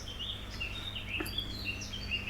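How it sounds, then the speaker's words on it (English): Birds sing and chirp in short repeated high phrases, fairly faint and slightly distant over a quiet garden background. "you can hear the birds singing."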